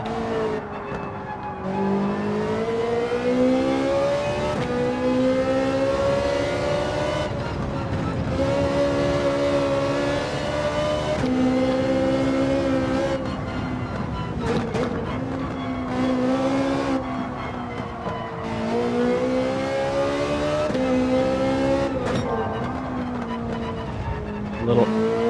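Ferrari GT4 race car in Gran Turismo 7, its engine note sweeping down repeatedly under engine braking, loud and close, with rising and falling pitch sweeps between gear changes and no talking.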